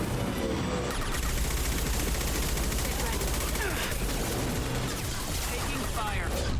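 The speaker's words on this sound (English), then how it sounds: "Taking fire" Dense, sustained gunfire from a Mass Effect 2 firefight, rapid overlapping shots and automatic bursts filling the whole stretch at steady loudness, with a voice faintly buried in the din.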